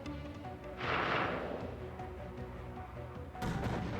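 Airstrike explosions rumble in a video game battle, with a broad dull blast swelling near the start and another heavy boom near the end over a constant low rumble, fairly faint overall.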